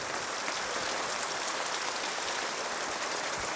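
Heavy rain pours down steadily, a dense, continuous hiss of drops drumming on surfaces, loud and unbroken throughout with no voices.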